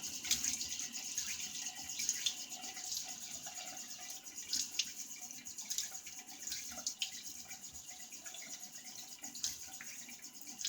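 Tap water running steadily at a sink while a face is wetted before a shave, a continuous moderate splashing hiss with small irregular spatters throughout.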